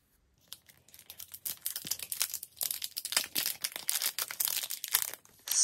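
Resealable plastic bags holding BTS pop sockets being pulled open up close, a dense run of crackling, tearing and crinkling that builds after a quiet start and continues for several seconds.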